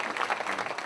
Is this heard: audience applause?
yes